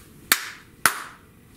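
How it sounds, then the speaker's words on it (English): Two crisp hand claps as body percussion in a children's preschool music class, about half a second apart, close and loud in a quiet room. "I clapped my hand 2 times"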